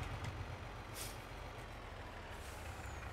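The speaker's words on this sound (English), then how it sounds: "And this Mac is a beautiful truck." A Mack truck in Farming Simulator 22 idles with a low engine rumble and a sharp hiss of its air brakes, steady and fairly quiet, with no talking.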